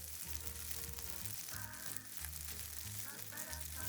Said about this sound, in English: add 1 portion of precooked ramen noodles and fry them until slightly